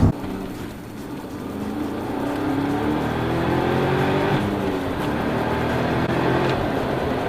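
Cadillac with a Tremec 6-speed manual gearbox driving, its engine note rising steadily through the gears in a continuous interior drone with a few shift transitions, no talking.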